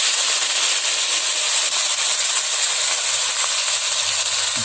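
Ground spice paste fries in a pan after small anchovies, giving a steady, loud, close sizzle and hiss that holds evenly from start to end without a break.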